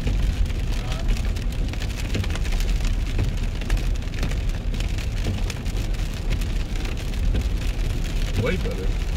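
Car driving on a rain-wet road after snow, with a steady broadband hiss of tires and spray under a low engine rumble throughout, loud and close, with faint voices inside the car.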